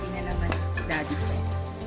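Chicken hitting a hot pan with garlic sauce for a pork liver dish, a close sizzle with a sharp metallic clink and stirring, under a speaking voice.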